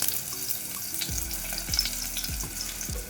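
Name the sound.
green chilies and asafoetida frying in oil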